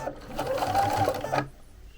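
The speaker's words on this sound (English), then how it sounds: "So I'm just going to zigzag this all the way across" A sewing machine runs a zigzag stitch across a chenille baby quilt, whirring rapidly and steadily for over a second before stopping abruptly into quiet.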